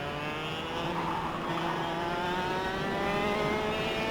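A steady, buzzing racing kart engine drone in the video game KartKraft, rising in pitch as it revs, continuous and fairly loud, no voices.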